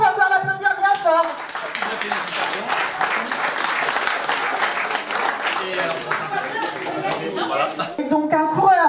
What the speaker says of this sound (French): Donc, félicitations, on peut encore l'applaudir bien fort.